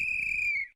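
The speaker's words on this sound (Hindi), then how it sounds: "ये सीटी चौकीदार ने नहीं बजाई थी" In a night-time horror-comedy cartoon story, a person who is not the watchman blows a single shrill, steady whistle blast that lasts under a second, loud and close, with no talk over it.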